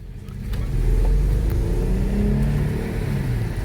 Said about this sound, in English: launching is a little difficult because the car is misfiring a lot